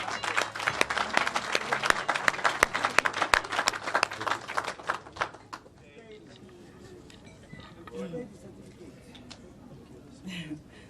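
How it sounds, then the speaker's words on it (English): Graduates of a basic nutrition and kitchen hygiene course are applauded by an audience: brisk, fairly loud clapping for about five seconds stops abruptly, leaving quiet room sound and scattered voices. "Can we applaud them?"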